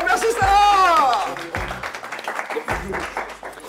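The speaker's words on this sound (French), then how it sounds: "Sarah, malheureusement, on peut l'applaudir très fort." A studio audience at a children's quiz game show claps, the applause mixed with a voice and some musical tones, fairly loud and steady throughout.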